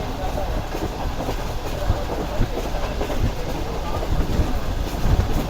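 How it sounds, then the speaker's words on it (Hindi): Pak Business Express passenger train running at speed between Karachi and Lahore, a steady loud rumble with rhythmic clatter of wheels over rail joints throughout. "तो भाई फाइनली ट्रेन हमारी 105 तक तो पहुंच चुकी है।"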